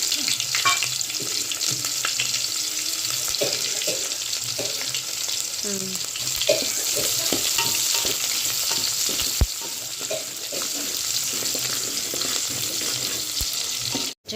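Chopped onions fry in hot oil for a mutton curry, giving a steady, close sizzle with occasional stirring scrapes and taps throughout.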